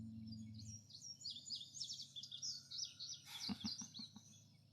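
Birds chirp and warble in quick, bright phrases over a quiet background, with a low hum fading early and a brief thump-like disturbance midway.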